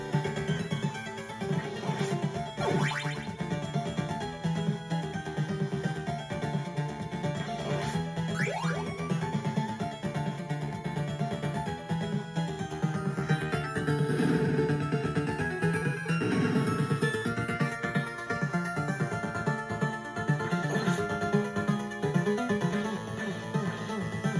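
Busy chiptune video game music from an NES using expansion audio, with bright synthesized melodies and layered tones, plays continuously at steady volume, with no talking.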